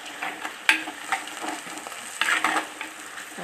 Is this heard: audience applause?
no